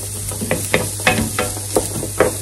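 Lentils sizzle gently in a stock pan while a utensil stirs and scrapes them in a steady rhythm, roughly twice a second, over a constant low hum.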